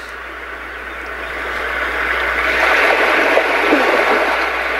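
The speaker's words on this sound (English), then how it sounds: "And here we have an ocean surf." Ocean surf track from a Roffie white noise machine: a continuous rushing wash that gently swells louder toward the middle, steady and close with no speech.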